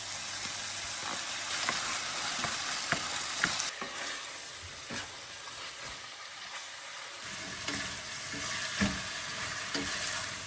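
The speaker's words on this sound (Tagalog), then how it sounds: "Isaute lang natin itong mabuti para masarap at mabango yung ating niluluto." Chicken and onion sauté in a pan with a steady, close sizzle and hiss, broken by frequent stirring scrapes and clicks against the pan. No one speaks.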